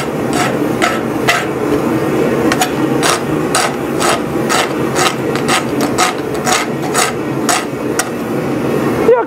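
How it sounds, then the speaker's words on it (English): Forged metal with a cold shut is worked by a rasp and struck repeatedly, giving loud, steady scraping strokes broken by sharp regular hammer-like impacts, close by with no talking. "So I'm gonna rasp out my cold shut."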